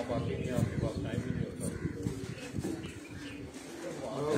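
Pigeons settle on a rooftop in Piplan, three birds landing: soft low cooing runs steadily under a dense, busy background, fairly close and even in level throughout.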